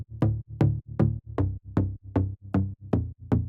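Plucky top layer of a fast techno bass synth, nine short bright notes with sharp attacks and quick decays in a steady driving rhythm, played alone and up close.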